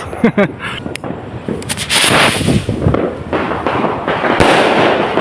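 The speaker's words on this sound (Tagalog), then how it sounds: "So may fireworks doon" Rapid crackling bangs and sharp pops burst one after another, with a dense sizzling roar of New Year fireworks going off close by.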